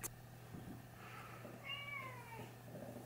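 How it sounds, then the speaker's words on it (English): A house cat meows once, a short rising-falling cry midway through, faint against a quiet indoor room with a low steady hum and no talking. "That was the cat."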